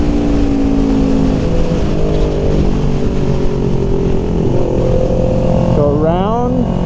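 Track-day motorcycle engine held at steady high revs under talk, with pitch stepping through a shift from fifth down to fourth gear near the end as the revs climb.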